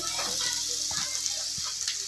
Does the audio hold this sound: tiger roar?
no